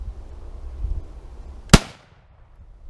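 A rifle fires Turkish surplus 155 grain ammunition at a steel target: one sharp, loud crack stands alone over low background rumble and decays quickly into quiet.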